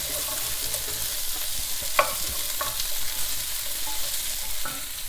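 Chickpeas and cod pieces fry in oil in a pan for a Lenten cod dish, a steady crackling sizzle with a few light stirring taps.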